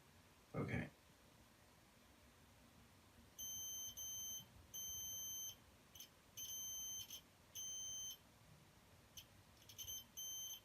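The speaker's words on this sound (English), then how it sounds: "As you see, it's beeping." A multimeter continuity tester gives repeated electronic beeps in short bursts of varying length, clean and steady, after a brief handling noise at the start, while probing a water-damaged iPhone 6 Plus.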